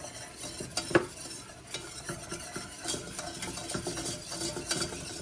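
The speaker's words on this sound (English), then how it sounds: "Don't stop whisking." Flour being whisked into a roux in a pan for baked mac and cheese, a steady close scraping and stirring with a soft sizzle underneath, continuous and without pauses or talk.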